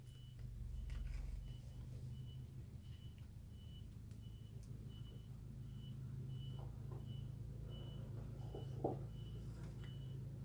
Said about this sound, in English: There's a truck in my driveway